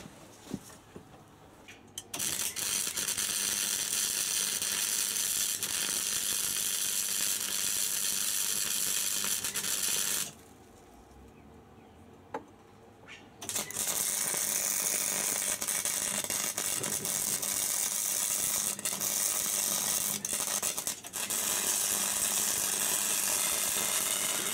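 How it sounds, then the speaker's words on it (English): MIG-style welding on thin metal in a home garage workshop, the arc running hot and blowing through the stock: a steady loud crackling buzz in long bursts, pausing briefly near the start and midway, with no talk. "welding we shall go"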